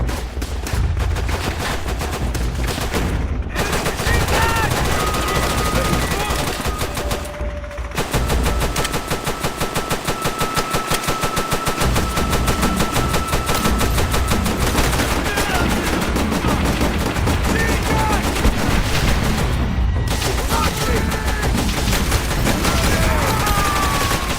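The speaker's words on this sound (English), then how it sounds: "I want suppressing fire on those MGs" Sustained machine gun fire rattles loudly and almost without pause in a war video game, with several overlapping gunshot bursts and brief gaps.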